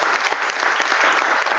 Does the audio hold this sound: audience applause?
yes